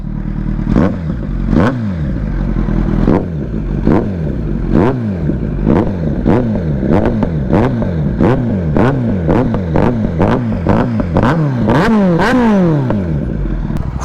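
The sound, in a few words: Kawasaki Z900 motorcycle engine revving while riding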